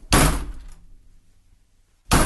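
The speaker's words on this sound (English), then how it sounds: "the sound of somebody slamming a door" A big metal door slams twice as a recorded sample, each a loud broadband crash, the first followed by a short decaying ring and a noisy background between hits.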